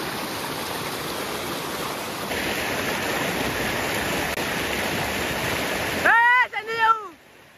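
A river running full of water rushes steadily as broadband noise at close range. Near the end a voice cuts in briefly over the flow.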